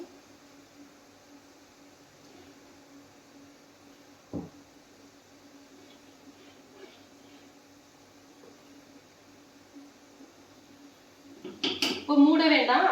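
Ground coconut stirred into a cooking pan for a Tamil home dinner: a quiet kitchen hum, one soft knock, then a burst of close scraping and clattering of a utensil against the pan near the end.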